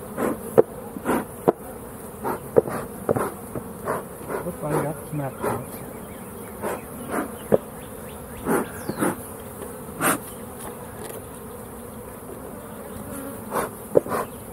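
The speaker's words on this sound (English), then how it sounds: "Boy, they're buzzing." Honey bees buzz densely around a hive. The close insect drone is steady, with frequent passes and brief surges, under intermittent casual talk from a person nearby.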